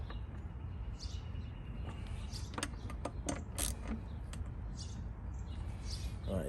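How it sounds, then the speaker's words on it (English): Bolts on an oil filter housing and intake manifold being torqued down with a ratchet, a handful of sharp clicks and creaks spread over a few seconds under a constant background drone. "I'm gonna torque them down."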